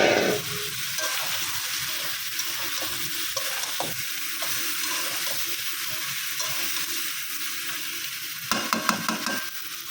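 Eggplant and potato fry in spiced oil in a pan, a steady close sizzle with occasional stirring scrapes and a brief louder clatter near the end, with no voices.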